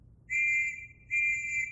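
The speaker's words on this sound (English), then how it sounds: "we'll blow a whistle first to warn you so that you have time to take cover" A First World War trench warning whistle sounds before a shell attack: two shrill, steady blasts of roughly half a second each, close and clear over a quiet low rumble, with no voices.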